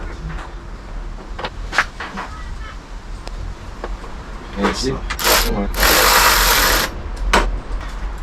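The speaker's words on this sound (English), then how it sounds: "now with the hand ratchet, we go over the front and we tighten these ones down" A hand ratchet tightens bolts during a workshop build, clicking in quick repeated bursts up close, with a longer run of rapid clicks near the end.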